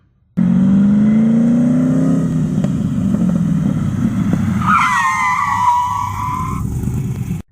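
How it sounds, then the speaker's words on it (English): A car engine drones and then tires squeal loudly as the vehicle brakes hard on newly bled Wilwood brakes, the screech lasting a couple of seconds before cutting off. "Now it's time to go test the brakes and see how it stops."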